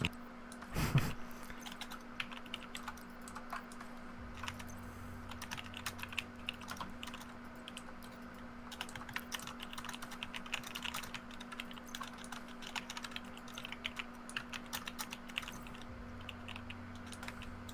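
Computer keyboard typing runs steadily in fast, light clicking bursts, fairly faint, with a low constant hum underneath during a late-night stream.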